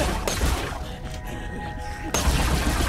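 Assault rifle fire in the video game Borderlands, a fast dense burst of rapid shots, a brief break with a lingering tone, then another loud sustained volley.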